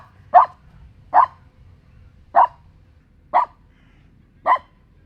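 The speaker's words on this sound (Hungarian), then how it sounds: "mindig hangos ugatással üdvözli, és megijed a többi kutyától" A dog in a park barks loudly at other dogs, with five single sharp barks spaced evenly about a second apart, close and clear over a quiet background.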